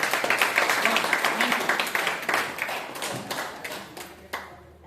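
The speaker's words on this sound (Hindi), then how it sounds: "मैं उनके लिए ताली करता" A group of people claps in a run of quick, distinct hand claps that start loud and close and gradually thin out and fade over about five seconds, with a voice heard among them.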